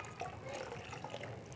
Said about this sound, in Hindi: अब इसमें हम थोड़ा पानी डाल रहे हैं